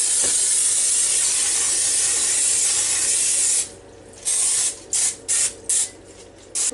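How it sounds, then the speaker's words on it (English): Cooking spray hisses from a can onto a muffin pan in one long steady spray, followed by a series of short, quick squirts in a choppy rhythm, close by with no talking. "spray the muffin pan a little bit"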